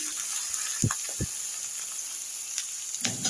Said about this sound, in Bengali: পেঁয়াজ ভাজা ভাজা হয়ে গেছে এবার মাছটাও দিয়ে দিচ্ছি